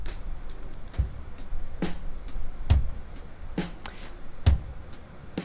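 A processed drum loop from an FL Studio mix plays on its own: punchy low kicks and bright snare or hat hits in a steady, moderately paced groove, clean and fairly quiet.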